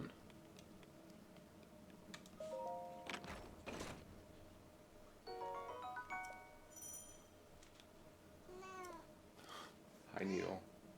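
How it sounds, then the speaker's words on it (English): An elderly white cat, 13 or 14 years old, meows several times indoors in separate calls spaced a few seconds apart, one rising meow louder near the end. "So the cat you probably hear"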